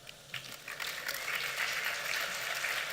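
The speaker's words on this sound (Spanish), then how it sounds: "Les pido un fuerte aplauso." An audience at an early-childhood mathematics education event gives a round of applause. Scattered claps build into a fairly quiet but sustained patter over about three seconds.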